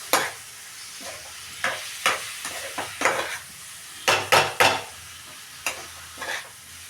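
Prawn masala stirred in a pan for a semi-gravy curry, a spoon scraping and clacking in irregular bursts over a soft sizzle, close and fairly loud with no talking.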